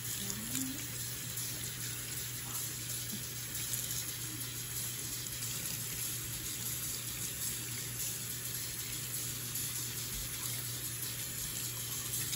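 Hot water runs steadily from a tap onto a shirt stained with tree sap, a constant close gushing splash that continues without pause for the full stretch, with no one talking.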